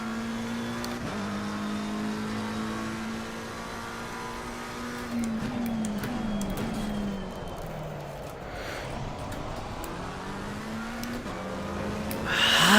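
A McLaren 720S race car in Assetto Corsa Competizione at Spa drones steadily at high revs, with pitch dips and rises through gear changes and a louder surge at the end, no voices.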